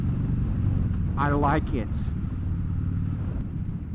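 A Harley-Davidson Dyna Fat Bob (FXDF) rumbles steadily at low pitch while being ridden, with someone speaking briefly over the engine.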